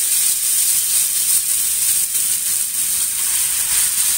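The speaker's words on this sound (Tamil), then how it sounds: "இப்போ எண்ணெய் சுட்டுருச்சு ஒவ்வொரு மீனும் வச்சுருவோம்" Paarai fish frying in hot oil over a medium flame gives a steady, close sizzle and hiss that runs unbroken throughout, with no voices.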